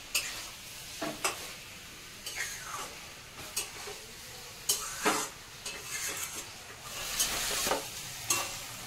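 A spatula stirs an egg omelette and cabbage curry in a frying pan, with a series of scraping strokes over a soft steady sizzle and occasional light clinks of metal on the pan.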